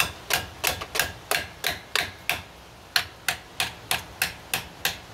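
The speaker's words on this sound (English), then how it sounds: "I'm gonna get my improvised hammer" Sharp hammer blows from an improvised hammer strike in a steady rhythm, about fifteen close, loud impacts spaced roughly a third of a second apart, with a brief pause midway and no talking.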